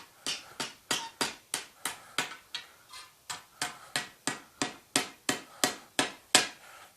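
Hammer blows ring out on hot steel from a Sears tractor part as it is worked against the horn of a blacksmith's anvil, a steady rhythm of about twenty sharp, close strikes with no talking.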